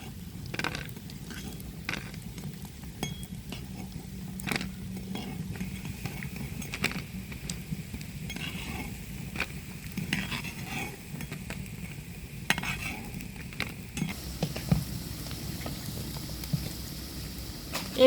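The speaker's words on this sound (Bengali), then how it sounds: "এই পারে দিছি পেঁয়াজও ভাজতেছি" Sliced onions fry steadily in a pan of oil for crispy piyaju, a faint, even hiss broken by occasional utensil clinks and stirring taps.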